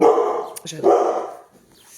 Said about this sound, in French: je suis désolée pour les aboiements